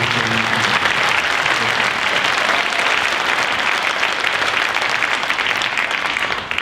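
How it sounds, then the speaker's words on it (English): Middle school winter band concert audience gives a long, dense round of applause that stays loud and even for several seconds, with a brief voice fading out at the start. "I want to give them a round of applause for their extra efforts."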